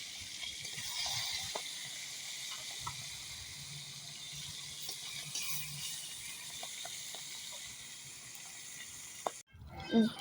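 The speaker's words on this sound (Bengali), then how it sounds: "তো দেখতে দেখতে আমাদের খোকা ইলিশগুলো ভাজা হয়ে গিয়েছে।" Small khoka hilsa fish frying in hot oil in a home kitchen give off a steady, close, bright sizzling hiss that holds throughout, then stops abruptly near the end with a brief knock.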